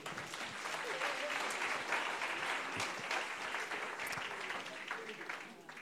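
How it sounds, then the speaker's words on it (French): An audience applauds at a regional award ceremony for a doctoral thesis contest, with steady, moderately loud clapping that stays even throughout. "On peut applaudir le CNRS."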